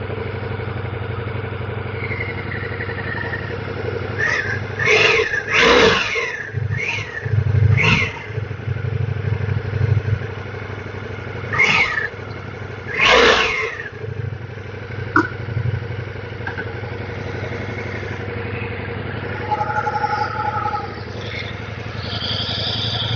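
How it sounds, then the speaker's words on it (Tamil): Ducati Multistrada V4 S motorcycle idling close by, with a few sharp throttle blips that rev the engine and exhaust in quick bursts before settling back to a steady idle. "இது எக்ஸாஸ்ட் ஜஸ்டா ரைஸ் பண்ணி பார்க்குறேன், எப்படின்னு கேட்டு பாருங்க"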